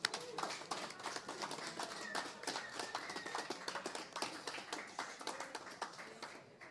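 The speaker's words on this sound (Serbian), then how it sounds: "Ajmo, aplauz!" An audience applauds at a radio show premiere, a thin, fairly faint patter of clapping hands with a rapid, uneven rhythm, steady throughout with a voice briefly under it.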